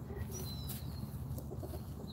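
Chickens and large roosters cluck softly and steadily at a moderate distance, with a few brief higher calls rising over the low, continuous farmyard murmur.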